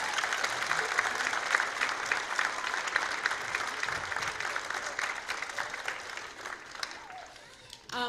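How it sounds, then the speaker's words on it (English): Audience applause for kindergarten and grade 1 students at an école holiday concert, a steady dense patter of many hands sustained for several seconds before thinning out near the end. "Can we give them another round of applause?"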